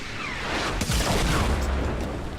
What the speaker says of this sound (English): he actually hits me with the rocket